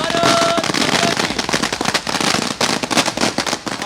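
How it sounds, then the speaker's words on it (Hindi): Fireworks and firecrackers go off at a street celebration in Bhopal, a loud, dense barrage of sharp bangs and crackling bursts that overlap almost continuously, with a few brief whistling tones near the start. "आप देख सकते हैं, देखिए आतिशबाजी हो रही है"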